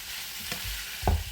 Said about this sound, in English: I'm going to put in peppers and onions.